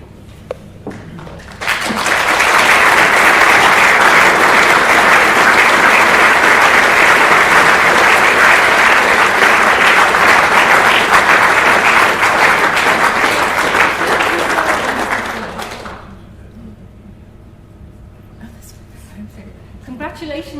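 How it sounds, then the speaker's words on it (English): A hall audience at an evening in memory of Seamus Heaney breaks into loud, sustained applause for a college nominee taking a bow, a dense wash of clapping lasting about thirteen seconds before tapering into murmurs. "a big round of applause"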